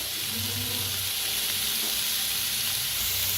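Onion frying in a pan with a little salt, a steady, dense hiss and sizzle close up, unbroken and even throughout with no voices.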